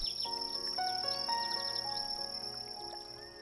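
Cicadas and crickets trill in a night-time bush chorus, a steady high-pitched buzz with faint chirping calls layered over it, fairly soft and continuous.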